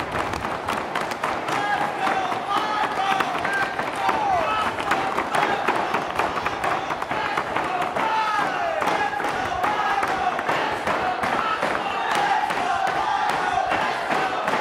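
Loud wrestling crowd roaring and cheering throughout the RWA Legacy 7 main event, a Triple Crown Championship match, with a dense, steady wall of shouts and clapping and a commentator talking over it.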